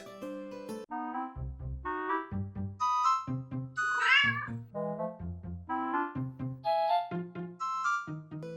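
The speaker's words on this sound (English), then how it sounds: "it's time for Lucky, the like and comment kitty" A cat meows again and again in a quick, chattering series of short calls, close and fairly loud with no talk over them.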